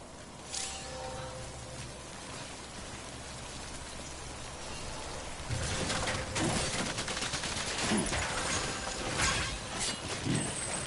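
Steady rain hisses throughout, growing heavier and denser about halfway through, with scattered sharper pattering impacts in the later part.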